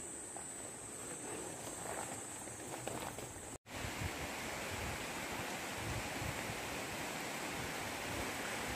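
Rain falls steadily during roadside fiber-optic cable maintenance after a landslide in hilly Palpa, Nepal, a constant hiss that drops out once for a moment and then returns.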